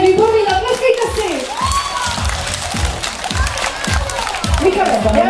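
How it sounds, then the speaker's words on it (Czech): An audience claps in a steady, rhythmic beat, roughly two claps a second, while a loud voice talks and calls out over the top throughout. "jste výborní, zatleskejte si"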